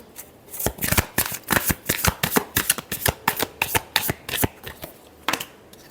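A deck of tarot cards is riffled and shuffled close by, giving a steady run of sharp, crisp flutters and snaps that ends with a few slower taps.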